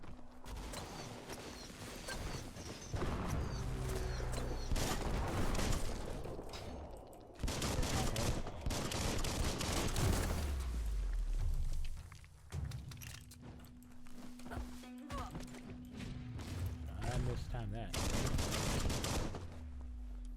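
The player's gun in the video game Biomutant fires in long, loud bursts of rapid shots, with mechanical clicks and footsteps between volleys and a low steady game hum underneath.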